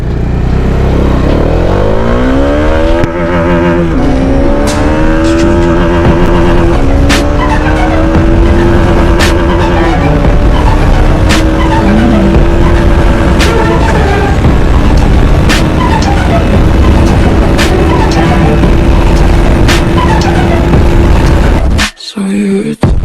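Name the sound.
Bajaj Dominar 400 motorcycle at top speed in 5th gear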